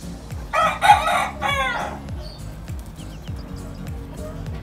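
A Sweater line gamefowl rooster lets out one loud, close crow lasting over a second, while softer clucks and chirps from other fowl keep repeating underneath.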